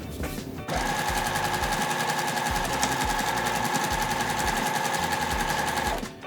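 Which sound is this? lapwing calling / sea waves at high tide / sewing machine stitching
sewing machine stitching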